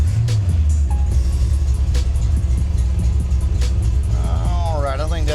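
Car engine running with a dead misfire, recorded from inside while someone drives, a steady low rumble with uneven pulsing throughout and a brief rising tone near the end.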